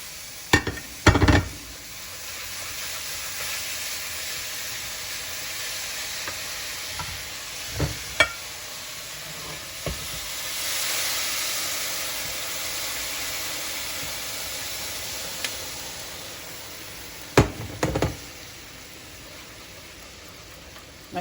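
Tomatoes going into a pan of fideo cooking in bouillon broth, giving a steady soft sizzle and hiss with a few sharp clanks and scrapes of stirring, close by and moderately quiet.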